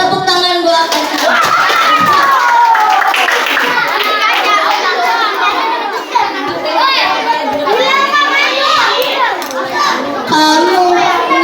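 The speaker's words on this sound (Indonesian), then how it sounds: "Tepuk tangan buat Arga" Schoolchildren clap for a classmate in a classroom, the clapping blending into loud, busy children's chatter and voices that continue throughout.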